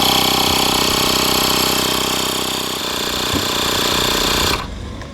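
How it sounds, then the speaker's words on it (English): A portable Hansshow tyre inflator buzzes steadily and loudly up close as it pumps a Kia e-Niro tyre, its rattling motor drone holding even before dropping abruptly when it shuts off near the end. "you're pumping up your tyre"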